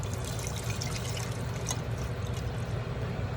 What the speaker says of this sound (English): So what we're doing is adding water.